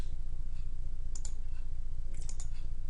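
Keys on a calculator are pressed while entering a polynomial expression, a few faint clicks over a constant low electrical hum, quiet and close with no talking.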